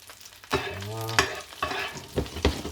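Fish flipped and basted in foaming butter in a pan, with a bright crackling sizzle that swells after a quiet start, then spoon-basting splashes in uneven bursts, close and loud.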